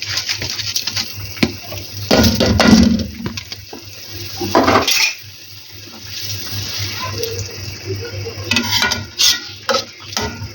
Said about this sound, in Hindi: देखिए अब यहाँ पर हम अपने तो आधा घंटा पहले चावल भी बचे वो ऐड करेंगे अच्छे से